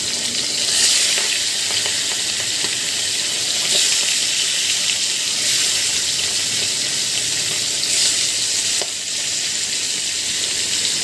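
Aair fish fries in hot oil with a steady, loud, crackling sizzle. Spitting pops and occasional gentle swells sound up close, and no voices are present.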